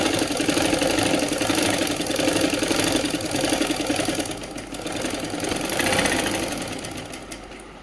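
A sewing machine stitches a Patiala salwar, running in a steady rapid mechanical chatter close by for the whole stretch, easing slightly in loudness midway before picking back up.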